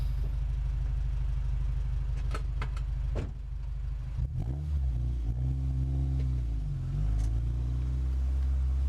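An Acura Integra engine on budget coilovers rumbles steadily at close range, with a few revs and shifts in pitch as the car pulls away and drives on.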